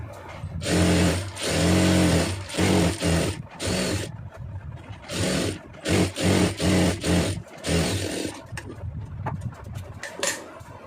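Sewing machine stitching a blouse lining, running in loud buzzing bursts of a few seconds each, separated by brief pauses, close and with no talk over it.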